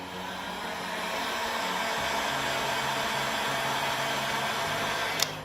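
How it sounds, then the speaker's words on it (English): A hot air tool blows steadily on the vibration motor inside a Samsung Galaxy A50 to soften its adhesive, a constant close-up airy whoosh with a faint click near the end. "So you can just blow some hot air on here."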